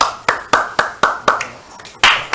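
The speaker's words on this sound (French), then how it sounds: "on applaudit pour Saint-André" A small group claps for the representative of Collège Saint-André at a school event, giving about six sharp, evenly spaced claps that rise above quiet background murmur.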